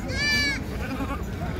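A milk goat at a goat sale gives one short, nasal bleat up close, followed by low murmuring voices and background noise.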